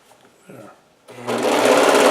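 A serger overlocks a seam on a Hawaiian shirt, starting after a few quiet handling noises and then humming loudly and steadily up close.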